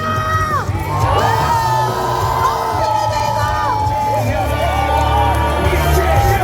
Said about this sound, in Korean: 다시 한번 함성!